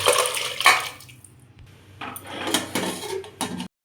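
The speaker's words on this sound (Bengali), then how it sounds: "চলো বন্ধুরা, এবার আমি এটা কুকার ঢেলে দেবো।" Bengali-style mutton is tipped from a metal pot into a pressure cooker, with clattering metal, a spoon scraping the pot, a short lull, then more knocks and clanks nearby, with no talking.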